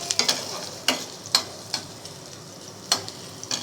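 Onions frying in hot oil for a dal tadka, a soft steady sizzle broken by sharp intermittent clicks of stirring against the pan.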